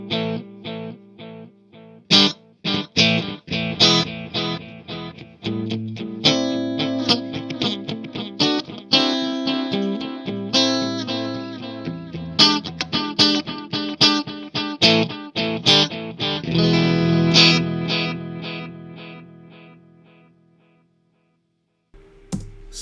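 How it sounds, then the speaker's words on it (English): A digital delay from a Strymon Timeline pedal in an amp's effects loop repeats a busy, driven guitar line, echoes trailing each plucked note for about twenty seconds before a brief silence. "we're going to do the same thing now, digital delay with the timeline"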